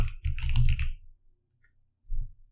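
A password being typed on a computer keyboard: a quick run of close, crisp key clicks for about a second, then a pause and one more short burst of keystrokes, with no speech.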